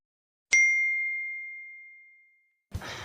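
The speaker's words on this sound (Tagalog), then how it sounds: "ito lang naman ang tunog na ginagawa ng iPhone gadgets na galing sa Apple" A single clear iPhone notification ding rings out and fades slowly over about two seconds, followed by a brief rustle of noise.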